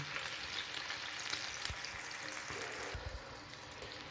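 Food fries on a Moulinex Accessimo electric plancha with a dense, even hiss of sizzling fat that holds steady throughout, with a couple of soft low knocks.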